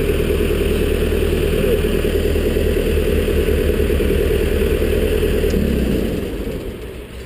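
Engine of a Vermeer SC60TX stump cutter running steadily at a loud, close, even drone, then easing off and dropping in level near the end, with no voices.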